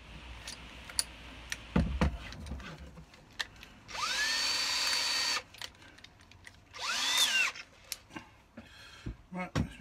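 A power drill fitted with a timber bit bores a hole in wood for the face of a Halloween jack-o-lantern, giving two loud whining bursts of a few seconds each amid scattered knocks and handling noise.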